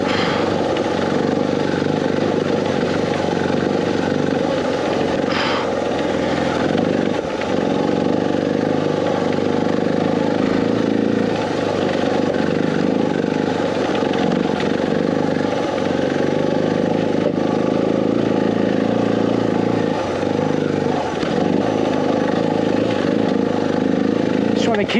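A motorcycle engine hums steadily and close up while a new rider climbs and corners on hilly roads, with wind noise and a few short bumps and knocks over the drone.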